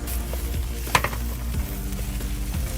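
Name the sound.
ginger and tomatoes being added to a sizzling pan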